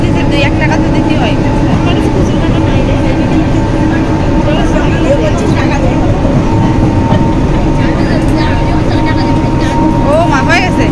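A train pulls into Bongaon station, its steady loud rumble and rolling clatter filling the whole stretch with a continuous din and faint squeals above.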